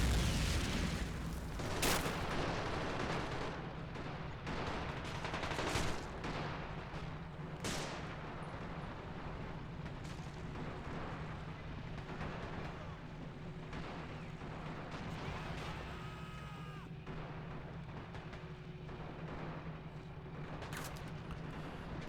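Steady distant gunfire and artillery booms as German and Russian troops trade shots in a realism-mod war game battle for Berlin, with occasional sharper nearby cracks over a constant rumbling background.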